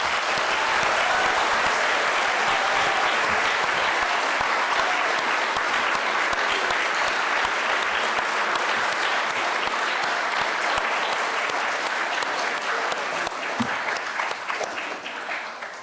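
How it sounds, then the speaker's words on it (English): A large audience at a school candidate forum breaks into sustained, dense applause for distinguished guests, a steady roar of many hands that holds loud for the whole stretch before easing slightly at the end. "showing our appreciation with a resounding round of applause"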